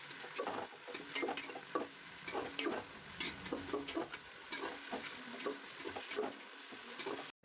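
Large onions and green chillies fry in oil for chicken biryani, a close crackling sizzle broken by rhythmic stirring scrapes of a spoon against the pan, with no talking.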